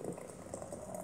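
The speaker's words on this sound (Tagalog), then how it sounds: "Lalagyan na ng mainit na tubig." Boiled hot water pours onto kalta herbs in a brief, faint, bubbling liquid rush heard close by with no one talking.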